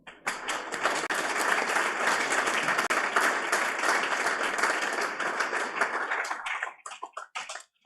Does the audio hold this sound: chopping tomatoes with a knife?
no